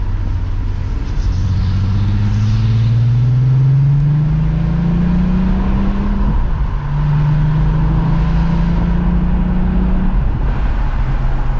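A 12v VR6 engine in an MK4 Jetta wagon drones through a Remus muffler while driving, a steady loud low exhaust note rising in pitch through the gears with a shift in the middle, heard from inside the car.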